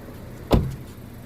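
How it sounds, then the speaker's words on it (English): A car door on a 2018 Honda Civic Si swings shut with a single close, solid thump, followed by a quiet, still background. "Let me close the door."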